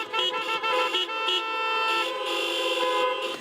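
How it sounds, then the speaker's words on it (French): Car horns honk after Sunday mass in France, overlapping toots from several vehicles forming a loud, sustained chorus with brief gaps, fairly close by. "c'est un concert de klaxons qui plébiscite l'initiative."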